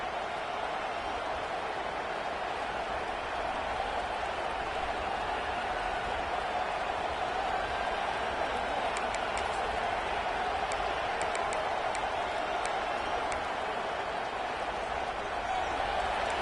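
Steady, distant roar of an arena crowd during an Oregon vs Tennessee hockey game, a continuous wash of cheering and faint clapping that holds even throughout with no sharp peaks.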